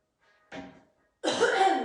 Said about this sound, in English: I'm really loud into the mic, me clearing my throat.